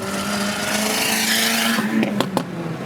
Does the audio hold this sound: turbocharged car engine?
yes